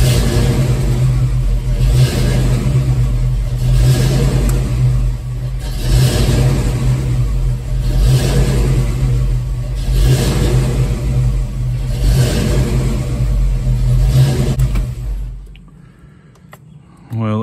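A warm Ford Mustang Foxbody engine with a hot hard-crank and surging-idle fault runs close and loud, revving and hesitating in repeated surges every couple of seconds before the idle drops away near the end.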